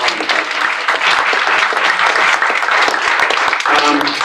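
An event audience gives the speakers at a school integration and equity forum a big round of applause, loud, dense and sustained, with a few voices audible beneath the clapping.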